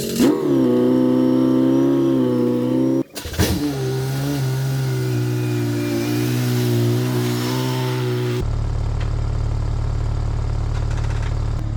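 A car engine cranks and starts, then revs and idles steadily at close range as vehicles are shuffled around, including a Toyota MR2 being brought back to roadworthy condition, with a shift to a different lower engine drone near the end.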